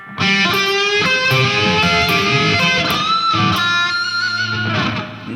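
An overdriven electric guitar plays a phrase from a solo at a slow pace, a loud, continuous run of distorted picked notes, bends and slides with sustained ringing, with no voices.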